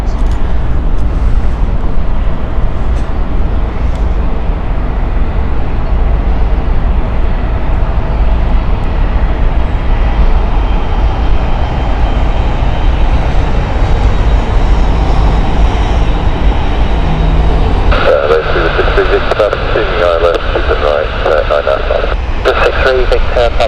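A Bamboo Airways airliner landing at Heathrow, heard as a steady, loud engine roar with broadband wind-like noise that holds throughout, growing harsher with tonal whine near the end, while people talk over it.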